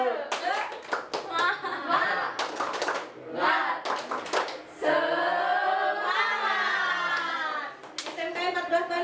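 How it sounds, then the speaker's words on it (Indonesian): A class of vocational textile students at SMKN 14 Bandung, standing up, claps together in a rhythmic cheer: sharp, loud bursts of hand claps in patterned beats, mixed with chanting voices and a teacher speaking. "kita tepuk semangat ya"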